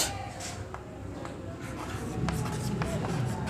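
Chalk or a marker scratches across a board during a physics lesson on gravitation, a series of short quick strokes close by over a low background murmur, with no clear speech.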